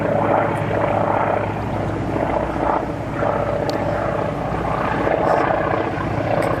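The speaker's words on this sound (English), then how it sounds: "Helicopter, that is an airplane. It's a float plane." Steady propeller drone of a small float plane passing overhead, loud and continuous with a low throbbing engine hum.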